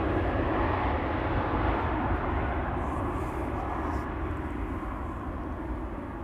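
An airplane departs at Amsterdam Schiphol Airport, a broad steady engine roar heard from a distance that slowly fades, with no voices present.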